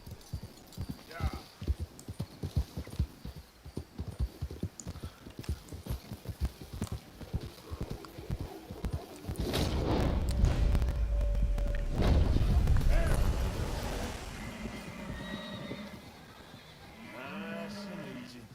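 Horse hooves clip-clopping and a horse snorting and neighing in Red Dead Redemption 2, steady hoof beats followed by a louder burst of horse noise, with voices talking over parts of it.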